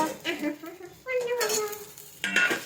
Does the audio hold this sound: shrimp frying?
yes